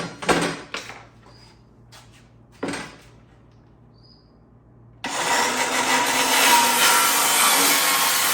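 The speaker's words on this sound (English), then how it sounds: "then cutting the length with the miter box" A hand saw cuts wood in a miter box for a dog bowl stand, giving a steady, loud, close rasping of sawing after a few short knocks and scrapes, with no talk.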